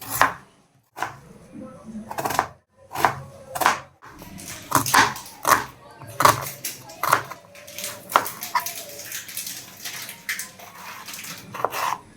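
Potato, tomato, onion and chili being chopped on a board, a series of sharp knife strikes, first spaced out and then coming in quicker, irregular bursts, close and crisp, with no talking.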